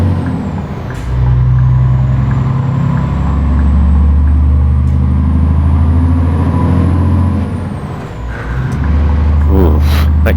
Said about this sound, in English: that gearbox does not sound healthy